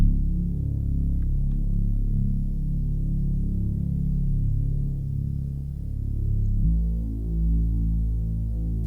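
A deep, throbbing synth bass line built from the Earthquake preset in a Mosh Pit Serum bank for a spacey trap beat, sustained low notes rumbling loud and steady, shifting pitch near the end.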